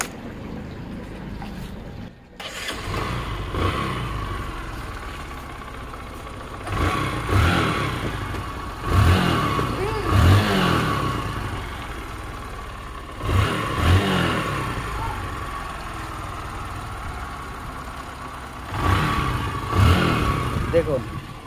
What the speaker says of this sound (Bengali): যদি দেখায় আপনাদেরকে বাইকটির সাউন্ড তাহলে আরো অবাক হয়ে যাবেন